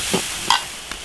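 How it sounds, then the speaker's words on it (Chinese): Minced garlic stir-fried in a wok, about a third of a jin cooked toward golden for crayfish, gives three short scraping and sizzling bursts over a low, steady frying hiss. "炒1/3斤蒜蓉， 第一次蒜蓉把它炒至金黄"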